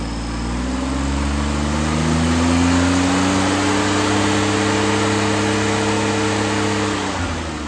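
John Deere 322 garden tractor engine idles steadily after a carburetor refit with the governor bypassed, a loud, close, even hum that drifts slightly upward in pitch and dips near the end.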